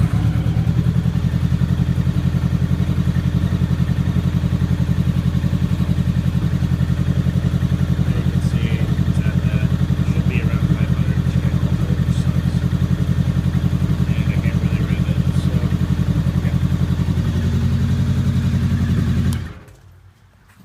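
A Honda Nighthawk motorcycle engine runs steadily at idle, close and even for about nineteen seconds, with a faint rhythmic clatter, before it cuts off abruptly near the end.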